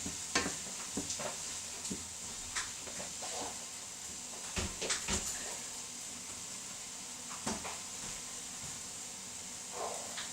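Sliced mushrooms fry with a steady, quiet sizzle in a pan for a spaghetti bolognese florentine, broken by scattered scraping clicks as they are stirred, with no voices.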